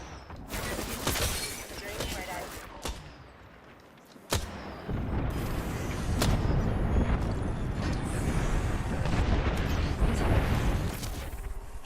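Gunfire in a late-night video game: sharp cracks and crashing bursts land irregularly over a dense, steady bed of game noise, with a person talking throughout.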